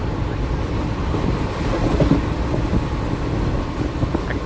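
An Intercity Superfast train runs along the coast past Chilika lake, its steady rumble and faint rail clatter continuous and fairly loud throughout, with no voices.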